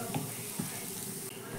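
Carrots and onions, seasoned with salt and turmeric, fry over a medium-low gas flame with a steady soft sizzle, broken by a couple of brief scraping stirs in the pan.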